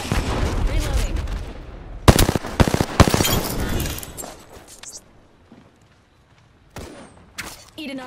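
Gunfire from an Apex Legends match, with dense bursts of rapid shots and loud cracks clustering in the middle, then dying into near silence before a few more sharp shots close out.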